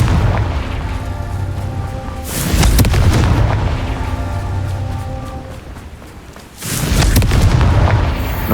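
Confringo fire spells explode in Hogwarts Legacy, two big booming blasts a few seconds apart, each followed by a rumbling tail over a steady game soundscape.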